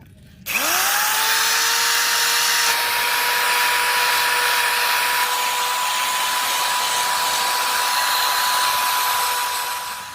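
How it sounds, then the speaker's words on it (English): A wire wheel on a power tool, used on brake mounting surfaces of a turbo Honda CB7 Accord hub, spins up quickly and then holds a steady, loud whine for about ten seconds. "Got these areas wire wheeled and clean"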